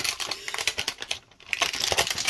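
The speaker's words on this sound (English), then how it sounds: "Nice plastic sounds." Plastic wrapping on a pack of baseball cards crinkles and crackles in dense, close bursts, briefly pausing midway before resuming with sharp rustling.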